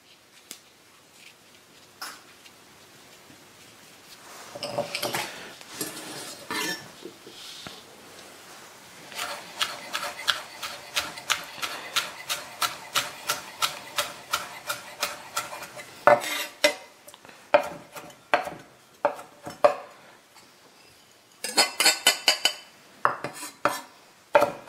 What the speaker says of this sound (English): Just a nice little chop, make that nice and fine.